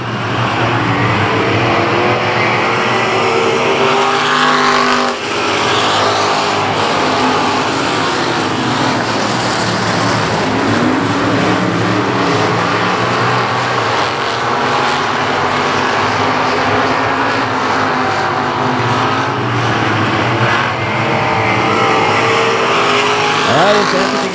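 Race cars battle for position at South Texas Speedway, a continuous loud roar of engines circling the track, swelling and fading as cars pass, with an announcer talking over the noise throughout.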